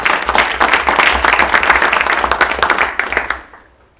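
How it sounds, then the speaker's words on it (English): An audience at an apprenticeship program signing ceremony claps in a loud, dense burst that holds for about three seconds before fading out, with a low hum underneath. "I think that deserves a round of applause."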